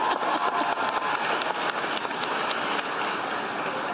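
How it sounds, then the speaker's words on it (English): Audience applause during Kamala Harris's remarks praising Biden after his campaign exit, a dense, steady patter of clapping that holds for several seconds with no talk over it. "you may clap"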